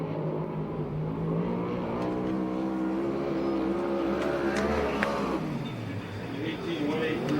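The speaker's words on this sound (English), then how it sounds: "the first lap for Johnny Bates, and it's got a Downing Racing engine in it." A 360 sprint car with a Downing Racing engine runs a qualifying lap at Perris, California, its engine droning steadily at high revs, joined by a second swell near the end, under a continuous announcer's voice.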